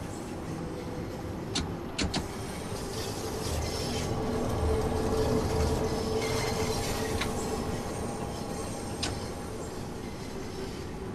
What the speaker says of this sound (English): The trains that operate are the oldest on the network, taking their name from the year they were introduced, 1972 Tube Stop.